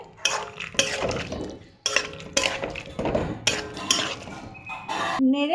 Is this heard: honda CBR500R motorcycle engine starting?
no